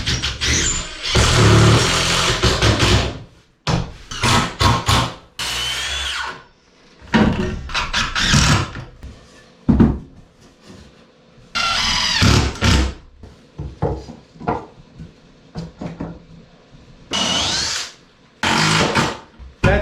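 A power drill drives screws into the timber of a wooden boat under restoration, with loud whirring bursts of a few seconds each, separated by pauses and knocks.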